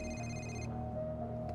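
A phone rings in Marvel's Spider-Man Remastered, a steady electronic ringtone held for a moment and then cut off, over a low game ambience with no talking.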